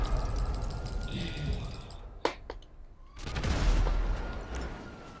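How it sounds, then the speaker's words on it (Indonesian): Gunfire rings out in a GTA 5 street scene, with a sharp shot standing out midway over a dense, noisy game backdrop of rumbling and crackling action. "Siapa tembak tu?"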